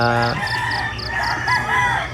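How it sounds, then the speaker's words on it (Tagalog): A rooster crows repeatedly over a chicken farm of about 100 chickens, with more chickens clucking and crowing in the background. "May nakikinig kayo, puro tilaok."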